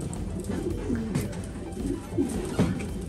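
Pigeons coo repeatedly in a breeding loft for racing birds, soft low throaty calls repeating at close range over a steady background hum.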